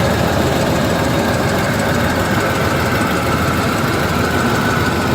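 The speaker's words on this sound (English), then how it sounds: "the engine's running just fine again" Van engine idling after a roadside repair in Manitoba, a loud, close and steady mechanical rumble with a constant hum and faint knocking texture, no voices.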